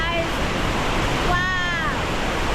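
Devil's Falls in Argentina pours a huge volume of water, producing a loud, steady roar of rushing noise that fills the scene, with a voice talking over it.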